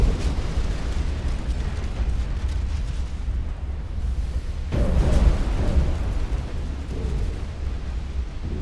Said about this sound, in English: Hey, torpedo hit.